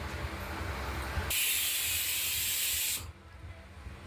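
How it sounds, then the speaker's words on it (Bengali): A pressure cooker cooking masoor lentils lets out a loud, steady hiss of escaping steam for about two seconds, cutting off abruptly against a low background rumble. "আমরা এই মুসুরির ডালগুলো দুটো সিটি মেরে রেখে দেব"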